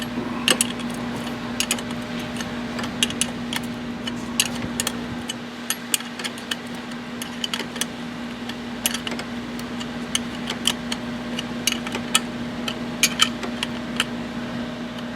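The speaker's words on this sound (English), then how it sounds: "7/16 inch wrench. And we're simply going to tighten these two up." A 7/16 inch wrench snugs two bolts on a 2015 Corvette Stingray during an oil catch can install, heard as faint, scattered light clicks and ticks over a steady low hum.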